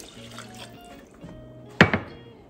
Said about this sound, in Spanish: de esta misma taza vamos a agregar 2 tazas de agua.